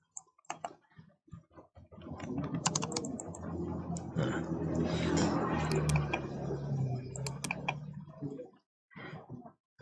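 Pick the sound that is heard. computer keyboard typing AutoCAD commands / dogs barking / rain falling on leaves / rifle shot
computer keyboard typing AutoCAD commands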